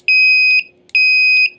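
Piezo buzzer on an Arduino board triggered by pressing a joystick button: two loud, steady high-pitched electronic beeps, each about half a second, close and clear with nothing else heard.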